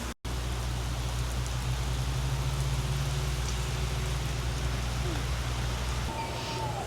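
Heavy rain falls outdoors in Sevierville, Tennessee as a dense, steady wash of noise that stays loud and unbroken after a brief cut at the start, with a low hum beneath it.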